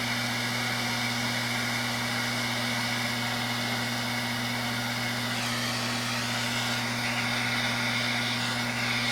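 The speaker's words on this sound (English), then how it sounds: "Use the pinpoint torch and some matte gas. Matte gas burns quite a bit hotter than propane." A pinpoint torch burns MAPP gas while heating large swing arm Allen head bolts on a Honda V65 Magna, a steady close hiss and roar with a constant low hum underneath, lasting throughout.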